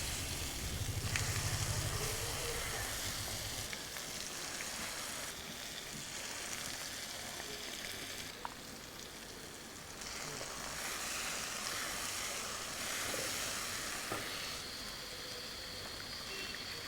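Curry leaves and masala paste for a brinjal curry sizzle in a pan, making a loud, dense crackle that runs steadily throughout, with a few sharp pops along the way.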